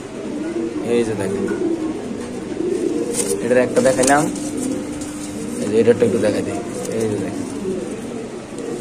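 White Bombay pigeons at a breeding farm coo and flutter nearby, their low burbling calls running through the clip while someone talks over them.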